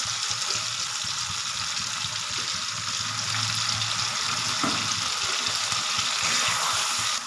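Ground spice paste sizzles steadily in hot oil in a pan for chicken curry with potatoes, a dense, even frying hiss close up with faint stirring.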